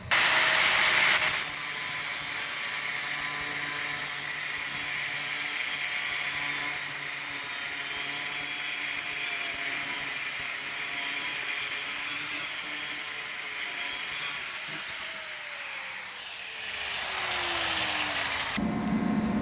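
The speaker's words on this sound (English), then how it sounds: "I'm gonna just cut the ends off right there so it'll sit more like that on those" A power tool cutting the ends off coated metal tubing during a wood stove build with a heat exchanger, a loud continuous high whine for most of the stretch that falls in pitch as it winds down, then restarts briefly.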